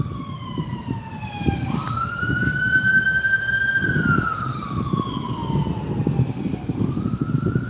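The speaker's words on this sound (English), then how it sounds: "More sirens." Emergency vehicle sirens, likely county sheriff units, wail up and down, a loud, close rising-and-falling tone over a low traffic rumble that lasts throughout.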